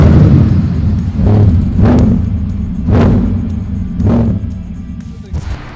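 A 1963 Corvette Grand Sport with a 750 HP Lingenfelter LT4 engine revs hard and loud up close, its deep rumble rising in four repeated surges about a second apart before settling.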